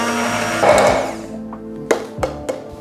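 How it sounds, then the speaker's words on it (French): An immersion blender whirs through a chocolate ganache for a latte macchiato tartlet, a loud steady buzz for about a second that fades, followed by a few short clinks and bumps. "on va le mettre un petit coup au mixeur plongeant. Ça va nous permettre d'avoir une ganache bien lisse"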